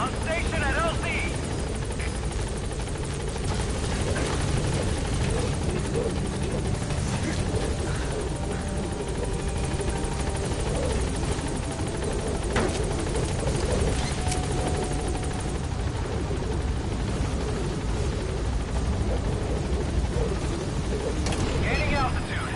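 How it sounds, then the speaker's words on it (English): The Pequod helicopter in Metal Gear Solid V arrives at a landing zone with a constant, heavy rotor thump and engine roar, while voices talk intermittently over it. "Pequod, on station at LZ."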